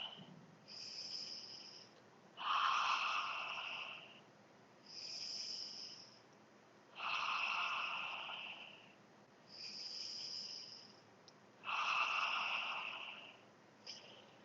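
Slow, deep yoga breaths, three full cycles of long airy inhales and exhales in a steady rhythm with short pauses, close and fairly quiet, with no talking.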